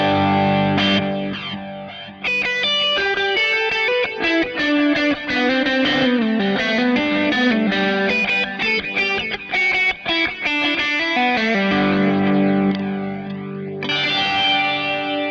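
Electric guitar played through a Kemper Player amp profiler with an echo reverb effect, sustained distorted chords and single notes ringing out with repeating echoes and a reverberant tail, loud and alone with no talking.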